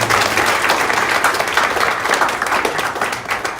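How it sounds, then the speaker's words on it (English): An audience at a Cumorah Connect gathering breaks into steady applause, a close, dense wash of many hands clapping that fades slightly toward the end. "Yes, you can clap for Kimberly."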